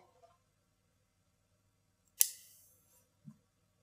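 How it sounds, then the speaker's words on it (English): One sharp, crisp snip, like scissors cutting through stiff plastic of a nail polish bottle, rings out in a quiet room, followed a second later by a soft thud. "cut through this little bit here with the scissors"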